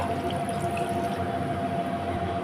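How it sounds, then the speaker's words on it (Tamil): A steady stream of water pouring into a cooking pot, continuous and close, with no talking. "கூடவே இன்னொரு டம்ளர் தண்ணி சேர்த்திக்கலாங்க"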